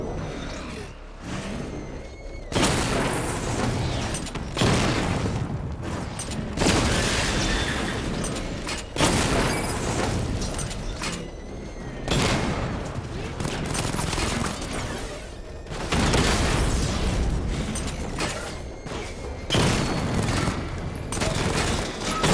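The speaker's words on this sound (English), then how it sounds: "Charge up missile barrage to level 2 and destroy 4 active targets to complete diagnostic test." A missile barrage fires in the Batman: Arkham Knight video game: dense, loud rolling volleys of rapid blasts and booms that surge in repeated waves with brief lulls between.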